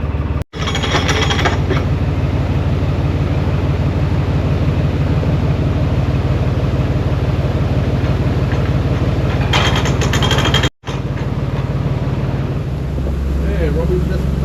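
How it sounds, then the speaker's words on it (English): A train passes with a loud, steady mechanical rumble and engine drone that continues almost unbroken, with two brief dropouts. "Train passing behind the boat there, look."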